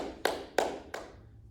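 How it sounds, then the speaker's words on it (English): Three hand claps spaced evenly at a moderate pace, close and soft, with a short quiet tail and no talk, during a preschool clapping song. "We're going to clap our hands."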